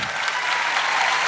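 An audience at a stand-up comedy show in Portugal applauds, a dense, loud wash of clapping that holds steady and close.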